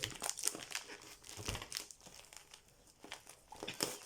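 Plastic packaging crinkles and rustles continuously while a stuck item is worked loose from a craft-supply haul parcel, close and soft, with no talking.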